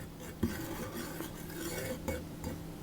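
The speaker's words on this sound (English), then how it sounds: "I'll put my baking powder and my lemon zest into the flour, and I just give those a bit of a mix around" Flour, baking powder and lemon zest are stirred together in a bowl, giving quiet, soft scraping and rubbing with a few light taps of the utensil against the bowl.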